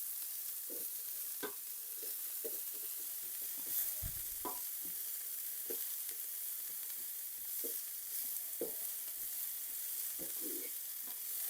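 Eggplant cooking in a pan for low-carb eggplant pizza, a steady soft sizzle running throughout with scattered light clicks and stirring scrapes over it.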